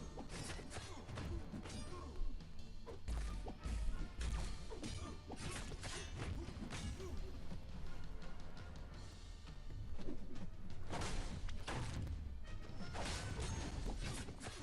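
Blade strikes at Kingpin in Marvel Contest of Champions, a continuous flurry of crashing hits, thwacks and whooshing swings, steady and close throughout with a few heavier impacts standing out.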